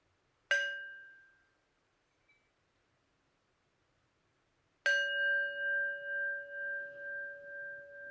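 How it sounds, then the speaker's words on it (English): Meditation bell struck twice to close a practice on a snowy day, each a clear near strike with a long sustained ring, the second swelling in slow wavering pulses, no talking. "I'll close with 2 sounds of the bell."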